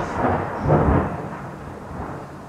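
A thunderstorm rolls in with low, distant thunder that swells twice and then fades, over a faint hiss of rain.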